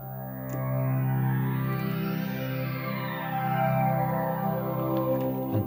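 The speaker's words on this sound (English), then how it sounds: "And finally, the Studio Strings sounds like this." Studio Strings preset on a Halion 7 software synthesizer, a sustained string chord held throughout with a rising and falling sweep, moderately quiet and alone.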